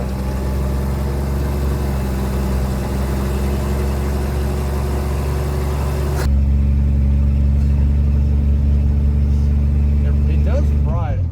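An abandoned Plymouth Barracuda, propped on blocks on one side and pulling to the right, drives along with a loud, steady engine drone whose pitch shifts midway, continuous throughout.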